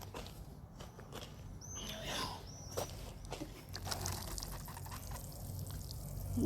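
Water poured onto plants at an allotment, a faint trickling splash with drips and some shuffling movement nearby, quiet and outdoors.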